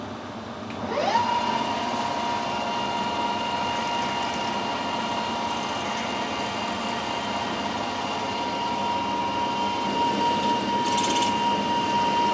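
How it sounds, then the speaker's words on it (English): A lathe runs steadily as a long drill is pushed through a metal vintage lantern tool post, a constant machine hum with a rising whine near the start and a brief clatter late on. "So we'll push this drill through."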